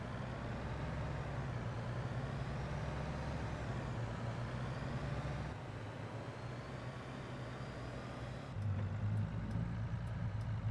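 Tractor towing a slurry spreader on a trailer in Farming Simulator 22, a steady low engine drone that continues without pause, rising slightly near the end.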